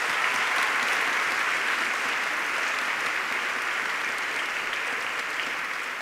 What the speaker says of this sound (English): give yourselves a round of applause for getting here today